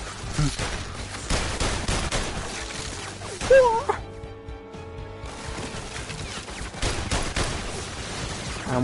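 Rapid gunfire bursts in the PS VR Worlds virtual reality video game, loud and close, breaking off for a short quiet stretch midway before resuming, with a voice talking in places.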